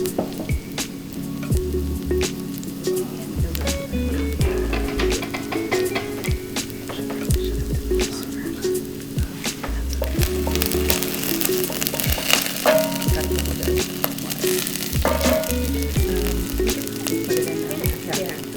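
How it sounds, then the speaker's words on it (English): Steady, crackling sizzle of garlic frying in a hot pan for pinakbet, continuous throughout with occasional scraping and stirring clatter mixed in. "garlic's going in. That's that kind of sizzle you want to hear."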